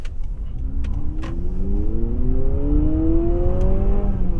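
A 2023 Honda CR-V Hybrid Sport Touring with all-wheel drive pulls away from a stop into a left turn, its rising electric motor whine climbing steadily over a constant bed of road and cabin noise.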